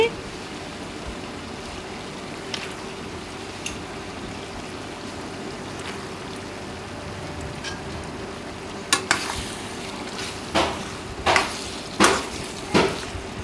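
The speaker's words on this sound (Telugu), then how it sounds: "ఇలా మొత్తం వంకాయలు కూడా బాగా మిక్స్ అయ్యేటట్టుగా కలిపేసుకోవాలండి" Eggplant pieces and chicken frying in oil keep up a low, steady sizzle, then a series of sharp scraping stir strokes at a quickening rhythm stands out near the end.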